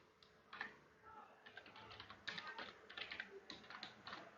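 Steady run of light keystrokes on a computer keyboard as a short Python program is entered, quiet close clicks with brief pauses and no talking.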